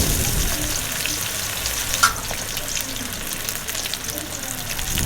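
Pieces of Lahori-style fish are deep frying in oil in a kadhai, giving a loud, dense, continuous sizzle close up. There is a brief bump partway through and no clear speech.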